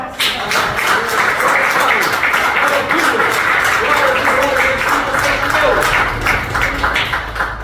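A church congregation claps together in sustained applause during a service while voices talk or call out loudly over it.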